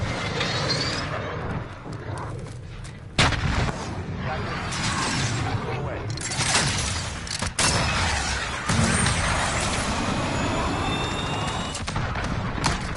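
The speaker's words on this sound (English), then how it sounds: "Missile, go for launch." Missile launch and strike in Call of Duty Modern Warfare: loud game audio with rumbling, heavy booms and sharp impact cracks over dense background noise, with radio-style voices talking throughout.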